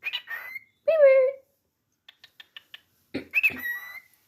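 A pet cockatiel gives a loud, close harmonic squawk, then a run of short soft chirps and ticks, and a final burst of whistled squawking calls, with quiet gaps between.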